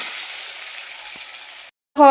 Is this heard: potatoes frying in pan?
yes